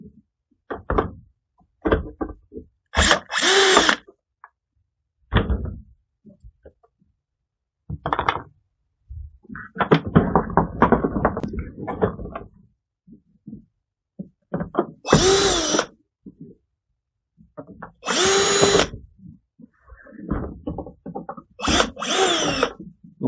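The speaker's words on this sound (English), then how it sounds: "I'm going to just take and remove these 3 screws" Bursts from a power drill remove screws from the side caps of an ESB SunSplash 10 stand-up tanning bed, several short sharp whirs separated by knocks, clicks and quiet gaps.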